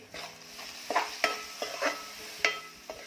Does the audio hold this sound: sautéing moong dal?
yes